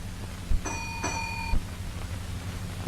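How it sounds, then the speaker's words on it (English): A ship's engine room telegraph reply gong sounds two clear metallic rings about half a second apart over a low engine hum, each tone fading quickly. "where their receipt is acknowledged by a reply gong"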